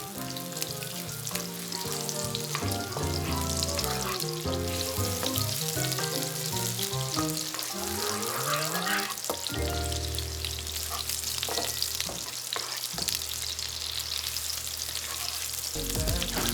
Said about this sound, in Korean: 썰어 놓았던 대파를 넣어주고